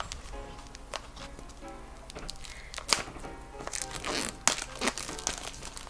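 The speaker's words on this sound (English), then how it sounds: "And let's peel off this wrapper." Plastic shrink wrapper being peeled off a tarot card box, giving repeated close crinkling and crackling with a few sharper tearing bursts, no talk.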